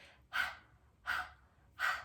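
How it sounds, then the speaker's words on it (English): Three quick, forceful breaths from a yoga breathing exercise done like a dog's panting, evenly spaced bursts of airy exhalation about every three quarters of a second, close and clear with no talk. "The idea behind it is kind of like panting like a dog."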